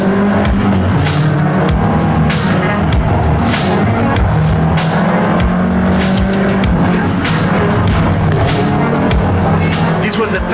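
Volkswagen Golf R, the seventh-generation hot hatch, racing in Forza Horizon 5, with a loud, steady engine roar throughout, tires squealing and skidding in repeated bursts, and no talk.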